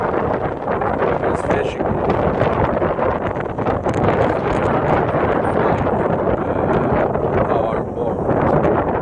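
Very strong wind roars across the microphone aboard a fishing boat at sea in bad weather. The rushing buffeting is loud and constant, with people talking through it.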